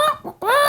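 A person imitates a goose call with their voice: two short nasal honks, the second louder and longer, close and alone with no other sound.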